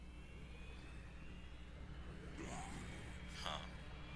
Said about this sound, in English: Oh, it's a plane.